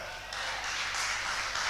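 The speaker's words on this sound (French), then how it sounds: "Est-ce qu'on peut applaudir pour ce frère?" A church congregation breaks into applause, a brief wash of many hands clapping together at an even, full level.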